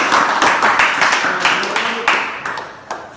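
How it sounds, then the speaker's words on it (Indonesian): A classroom audience applauds after a student presentation on light panel repair with hammer and dolly, dense loud clapping that fades over a few seconds. "Oke, berikan tepuk tangan."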